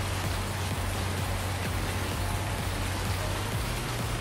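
Rain falls steadily in a farming simulation game, an unbroken, uniform wash of hiss with a faint low hum beneath it and no voices.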